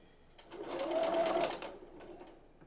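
A sewing machine runs a short burst of stitching through fabric, whirring up, holding and winding down over a couple of seconds, quiet and close.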